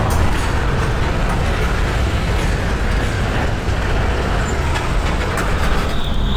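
A long freight train rolls past close by, a loud continuous rumble and clatter of wagons that holds steady for the whole stretch with no voices.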